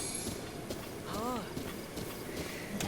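Horse hooves clip-clop in Breath of the Wild, a steady faint patter under game sounds and background talk.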